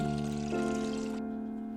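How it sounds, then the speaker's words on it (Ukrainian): Dye liquid poured over boiled eggs in a container, a short smooth stream of pouring heard over soft background music, ending after about a second. "І залийте рідиною для фарбування."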